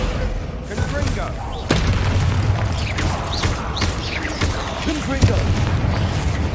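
Confringo spell blasts go off during play in the Hogwarts Legacy video game: several sharp booming bursts at irregular intervals, loud and close, with a voice talking between them.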